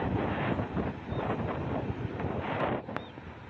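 Wind roars and buffets the microphone on a motorbike ride along the Vagamon route toward Cheruthoni. The low, rumbling gusts continue throughout with slight swells and no voices.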